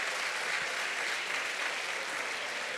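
Applause from the audience at a youth leaders summit, a dense, even wash of many hands clapping that holds steady throughout, fairly distant in a large hall, with no voices on top.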